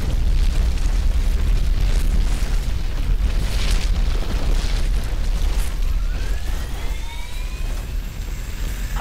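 Heavy gunfire and booming explosions in the shooter Call of Duty: Advanced Warfare, a loud, dense, continuous barrage with rising whining tones toward the end and no talking.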